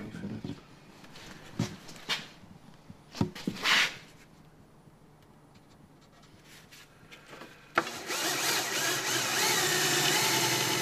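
A metal drill bit bores holes into a café racer motorcycle's new rear frame, the coating stripped back for spot welds. Scattered knocks and clatter come first, then a loud, steady whirring grind runs from about eight seconds onward.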